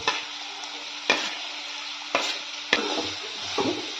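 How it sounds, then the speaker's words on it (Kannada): Onions, green chillies and curry leaves fry in a pan with a steady close hiss, broken by a few sharp spoon scrapes and clacks as they are stirred. "ನೀಟಾಗಿ ಈರುಳ್ಳಿ ಚೆನ್ನಾಗಿ ಫ್ರೈ ಆಗೋ ರೀತಿ ಹುರ್ಕೊಳ್ಳೋಣ"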